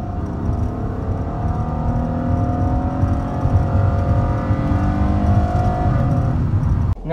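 A car engine revs hard and steadily on a banked oval autocross course, its rising harmonic whine sustained and loud for about seven seconds before cutting off abruptly near the end.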